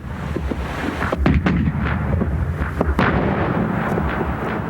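Naval gunfire from warships in a First World War sea battle: a dense, continuous roar of heavy guns with sharper blasts standing out near the middle, loud and close, with no voices.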